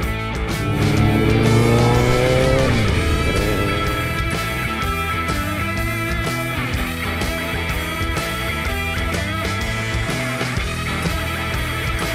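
Around two hundred motorcycles set off together on a Pinoy Ninja anniversary group ride, their engines loud and close, revving and rising in pitch before settling into a sustained, layered drone.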